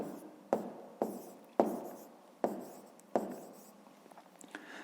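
Pen or pencil writing numbers on paper for a fifth-grade math exercise on field area and crop yield: five distinct scratchy bursts, each starting sharply and fading, close and alone.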